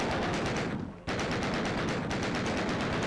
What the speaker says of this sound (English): Alright, time to take out the Tommy gun.